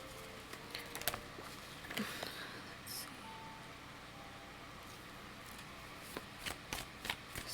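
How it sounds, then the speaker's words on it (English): A deck of tarot cards being shuffled during a reading: quiet, irregular flicks and riffling taps spread through the stretch, close and soft against a steady low background hiss. "One more shuffle."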